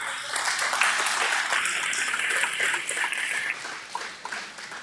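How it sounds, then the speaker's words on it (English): Steady crowd applause at a political candidate forum, dense overlapping claps, fairly loud throughout, tapering slightly toward the end with a few scattered claps. "Please give them a round of applause."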